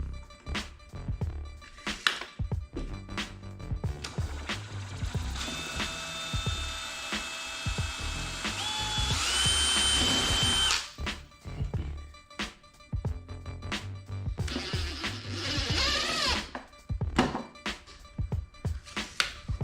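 A power drill drives screws into wood while building a one-hole washers backyard game board, two long whirring runs with rising pitch, surrounded by knocks, clatter and handling of boards and tools, close by.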